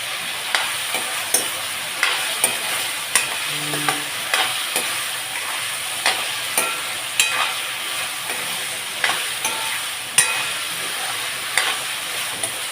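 Potato curry with asafoetida powder stirred in a pan, regular spatula scrapes and taps every second or so over a continuous hissing sizzle, close by and without speech.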